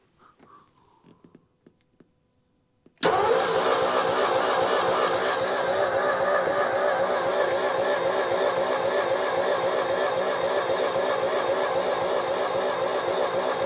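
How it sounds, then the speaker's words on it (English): A pickup truck motor cranks and catches after a few seconds of quiet, then keeps running with a loud, steady, close rumble to the end. No one speaks over it. "just turning the motor."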